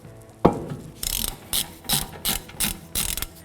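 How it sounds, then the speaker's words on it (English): A 1/2-inch ratchet breaker bar with a 35mm socket works a hub nut loose: one sharp knock, then six rhythmic bursts of ratchet clicking, close and clear with no talking. "Removing the hub nut, it's a 35mm socket, a 1/2-inch breaker bar."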